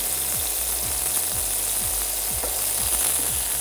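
Food browning in a hot frying pan, a continuous loud hiss and sizzle with faint rhythmic scraping or stirring underneath, steady throughout with no talking.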